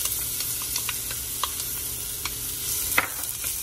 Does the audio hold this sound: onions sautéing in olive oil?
yes